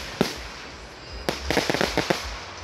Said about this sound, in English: It contains a whole bunch of explosive chemicals and flammable chemicals at the same time, which make up a firework